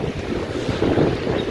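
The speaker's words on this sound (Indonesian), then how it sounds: "suasana malam ini angin sangat kencang" Strong night wind on the road between Subang and Bandung near Ciater, loud gusting rumble buffeting the microphone, rising and falling in surges with no voices.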